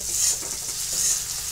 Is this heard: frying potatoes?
yes